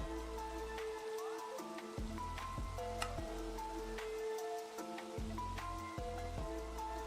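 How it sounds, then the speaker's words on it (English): Steady patter of rain in Minecraft with scattered drips and ticks, over low droning game music with a repeating bass pattern. "Rain is annoying."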